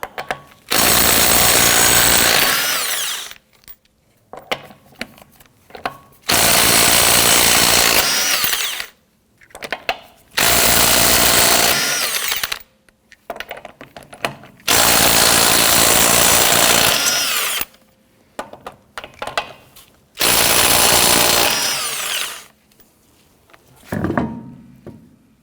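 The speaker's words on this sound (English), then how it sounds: "loosen and remove your lug nuts." Impact wrench loosening the lug nuts on a 2017–2020 Hyundai Elantra's rear wheel with a 21mm socket, sounding in five long, loud rattling bursts separated by short pauses, with no talking.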